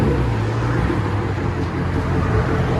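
A muffler-deleted V8 muscle car engine, a Chevy Camaro SS 6.2L or Dodge Charger R/T 5.7L HEMI, idling with a loud, steady, low rumble that carries on unbroken and close by.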